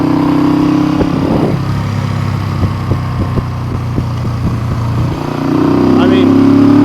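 A Honda CB350 motorcycle, said to have low compression, pulling strongly while ridden: a close, loud engine drone that dips into a rapid pulsing stretch mid-ride before swelling again, with talk over it.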